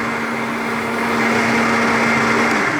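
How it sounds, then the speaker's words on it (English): A blender whirs continuously blending a papaya shake, a steady high motor whine that grows slightly louder as it runs, with no one talking. "Blend that thing up"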